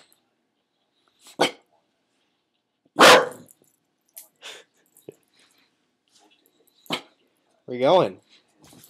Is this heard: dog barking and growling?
yes